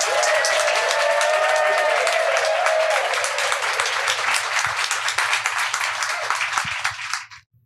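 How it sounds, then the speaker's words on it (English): A conference audience applauds a panel, loud, dense clapping that holds steady for about seven seconds before quickly dying away, with a faint voice briefly audible early on. "a round of applause for our panel,"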